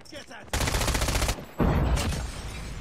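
Two loud, close bursts of rapid submachine gun fire in a ranked shooter match, a long sustained burst followed by a shorter one with fading echo, with a faint voice.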